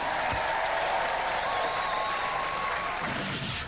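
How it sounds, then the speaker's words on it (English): A studio audience applauds the Robot Wars team Suicidal Tendencies, a steady wash of clapping that holds at an even level for a few seconds without pause. "Let's have a round of applause for Suicidal Tendencies"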